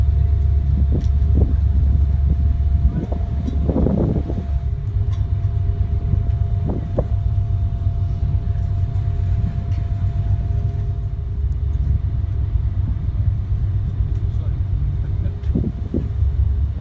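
A heavy, steady low engine rumble fills the ride on a passenger ferry, with occasional faint clanks and knocks on top and no break in the drone.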